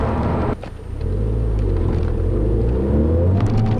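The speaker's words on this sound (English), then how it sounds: "I try to limit full throttle acceleration in first gear" A 2010 Volkswagen GTI with a six-speed manual pulls hard at full throttle in first gear, heard from inside the cabin as a loud, rising engine rumble after a brief dip, climbing steadily in pitch.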